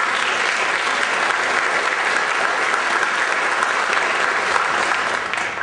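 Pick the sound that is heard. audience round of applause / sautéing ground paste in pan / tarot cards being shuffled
audience round of applause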